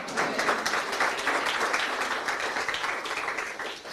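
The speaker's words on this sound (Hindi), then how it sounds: "जोर से ताली बजाई किसने?" A church congregation claps loudly during a sermon, a dense, steady burst of applause that fills the whole stretch and tapers slightly at the end, with no voices on top.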